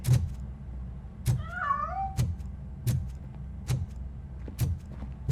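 A cat in the video game RoboCop Rogue City gives one short rising meow amid a steady rhythmic series of sharp thumps, faint against a quiet background.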